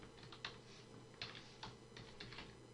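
Typing on a computer keyboard, a quiet run of irregular close key clicks with a few sharper strikes, alone, no talking.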